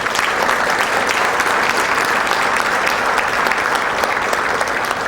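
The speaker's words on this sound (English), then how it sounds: "Let's have a special round of applause for Kevin." An audience at a chamber of commerce breakfast gives sustained applause, a dense, even clatter of many hands clapping at steady loudness throughout, with no clear voices on top.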